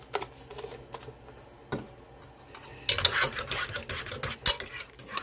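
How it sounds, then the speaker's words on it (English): Mashed garlic butter potatoes stirred in a pot, a run of soft scraping and clinking strokes that grows louder and busier in the second half, close by with no talk. "Stirring, stirring, stirring. And that's how easy mashed potatoes are."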